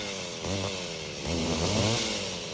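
A chainsaw engine drones close by and revs up twice in strong surges, its buzzing tone climbing with each burst before settling back to a rough idle.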